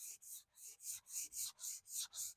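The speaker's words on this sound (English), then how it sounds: "it's just a light sanding. It's not a heavy duty sanding." Light hand sanding of pallet wood and 2x4 guitar body before a tung oil finish, a steady run of about nine soft rasping strokes in even rhythm, close and fairly quiet.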